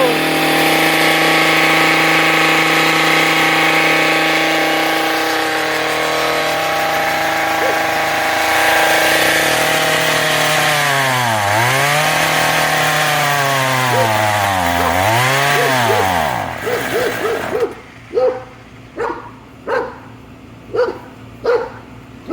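A Craftsman weed eater engine runs loud and close with the choke on, holding a steady drone before its pitch swoops down and up twice, then it sputters out into a string of uneven pops.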